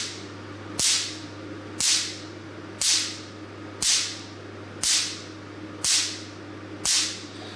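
A picosecond laser tattoo removal machine fires short pulses onto paper, giving a steady series of about seven crisp, sharp snaps roughly once per second over a low constant hum, each snap with a brief hissy tail.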